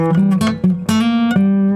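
A guitar picks a short run of single notes of the C mixolydian scale in quick succession, each attack crisp and clear, played alone with no voices.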